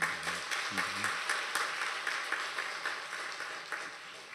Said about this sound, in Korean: 우리 수고하신 성가대 박수 한번 이렇게 했으면